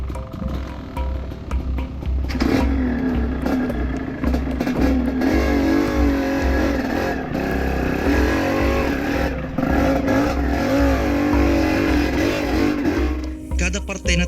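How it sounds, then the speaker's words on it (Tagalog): Dirt bike motorcycles revving hard as riders push them up a steep, root-covered forest trail on a multi-day ride, engines straining and rising in pitch, loud and close, with people shouting and talking over the noise. "Kada parte na technical ay may mga rider na ipinapaahon ang kanilang mga motor."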